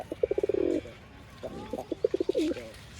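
A newly paired couple of Kalsila Giribaj pigeons coos in two bursts of rapid, rolling calls, loud and close, with a short quiet gap between them.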